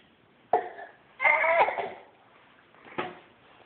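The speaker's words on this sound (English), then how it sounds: "Wow, you have a lot of coughs this morning." A young boy gives fake coughs, three separate forced coughs, the middle one longer and raspy, close and clear against quiet background.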